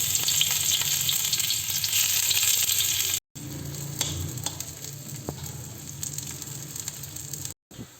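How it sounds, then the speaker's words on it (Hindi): Chopped onion fries in hot oil for a tempering, giving a loud, dense, steady sizzle that crackles throughout, broken by two brief cuts of silence. "तेल गर्म हो गया, इसमें हम प्याज डाल देते हैं।"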